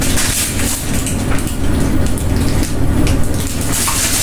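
Tap water runs steadily into a kitchen sink during muffin baking, a loud, close, continuous rushing and splashing with no pauses and no talk.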